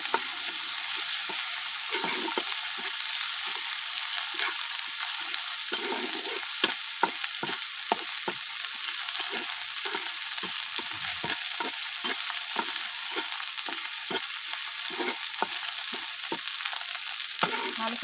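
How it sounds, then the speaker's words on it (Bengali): Chopped ginger and garlic fry steadily in hot oil in a pan, a continuous close sizzle broken by frequent short scraping stirs, with no talking. "আদা কুচি রসুন কুচি ভালো করে ভেজে নেবো"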